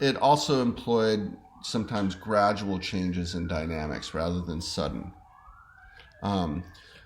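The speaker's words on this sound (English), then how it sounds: "sorry about that siren in the background" A siren wails in the distance, its tone sweeping up and down steadily beneath continuous talking.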